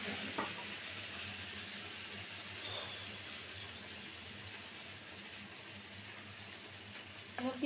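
Chicken pieces fry in oil in a pan, giving a steady, even sizzle with faint crackles throughout and a few soft stirring knocks, with no voices over it.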